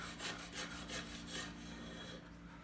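A card scraper shaves thin curls off a wood surface in a quick series of rhythmic rasping strokes, close and moderately loud, with no talking.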